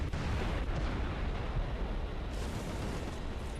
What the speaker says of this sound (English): I'm going to try and unload all my bombs on the guys I see getting marked here at the B point.